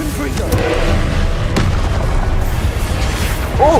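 Confringo blasting spells go off in Hogwarts Legacy, short sharp booms and bursts punching through a busy, loud mix with vocal sounds over the top.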